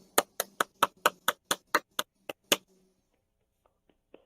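One person claps alone about ten times at a steady pace, close and crisp against near silence, then stops.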